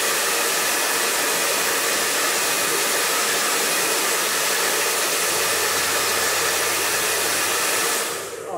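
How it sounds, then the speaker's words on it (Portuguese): A hair dryer blasting continuously at close range while heating a sheet of EVA foam for a craft project, a loud steady roaring whoosh that barely changes before easing slightly at the end. "Você vai aquecer o EVA com o secador."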